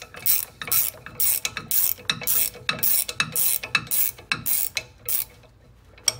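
A ratchet wrench loosens bolts on a boat trailer's brake assembly, giving close, rapid bursts of metallic clicking in a stop-start rhythm, with short pauses between strokes and a longer gap near the end.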